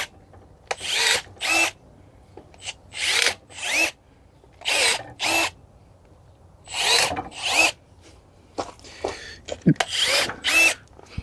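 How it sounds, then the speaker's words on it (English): Milwaukee M12 battery-powered pruning shears snip through tree branches outdoors, giving a dozen or so short, sharp cutting bursts in an uneven rhythm, each a close, brief crunch-and-whir separated by quiet pauses. "Completely effortless to do, no fatigue at all using this Milwaukee powered pruner."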